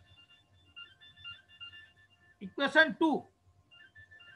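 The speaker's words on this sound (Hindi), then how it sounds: "जस्ट ए मिनट एक फोन आ रहा है।" A mobile phone ringtone plays a quiet, repeating electronic melody in a lecture room, interrupted midway by a few words from a man.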